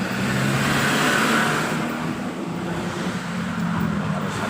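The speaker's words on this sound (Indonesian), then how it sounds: "Seperti Anda lihat ini banyak sekali truk-truk yang mengangkut ya, itu termasuk alat-alat berat yang di dalam." Trucks carrying heavy equipment climb a winding mountain road past a roadside village, heard as a loud, continuous engine drone with wind rumble on the microphone throughout.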